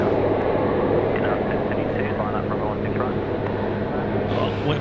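An airliner takes off from runway 16 right at Sydney Airport, a steady, loud engine roar and rumble held throughout, with a faint voice speaking over it.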